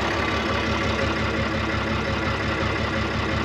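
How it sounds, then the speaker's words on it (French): A tractor engine runs steadily during ploughing on farmland with a low, even rhythmic chug that stays close and constant throughout. "il y a pire comme bruit de tracteur, non?"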